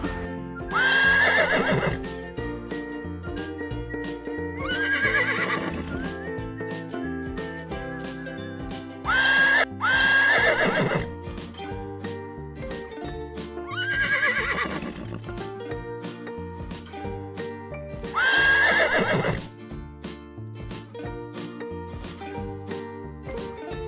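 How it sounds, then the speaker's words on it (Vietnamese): Horse neighing and whinnying in repeated loud bursts, each a few seconds apart, with hooves clip-clopping on a farm, all set over a steady bed of bright, tonal children's music. "con ngựa"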